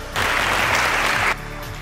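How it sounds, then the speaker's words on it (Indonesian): Audience applause at a student blood donation event with the regent and vice regent of Klaten, a burst of dense clapping that starts abruptly and stops just as suddenly after about a second, over a low steady background hum. "Mohon apresiasi tepuk tangannya Bapak Ibu hadirin sekalian"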